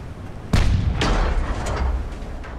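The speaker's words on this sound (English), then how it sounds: "My main gun's even firing." Main guns of a warship in the naval game Ultimate Admiral Dreadnoughts fire in two loud close booms about half a second apart, followed by rumbling echoes and smaller distant reports.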